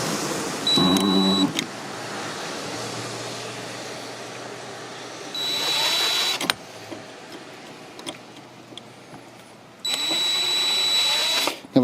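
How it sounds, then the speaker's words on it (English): A small drill bit bores into the broken windscreen bracket of a BMW R1200 GS Adventure motorcycle in three separate bursts of high, whining drilling, close and loud, with quieter pauses and faint clicks between. "I'm going to use a very small drill bit and drill into this thing down the center."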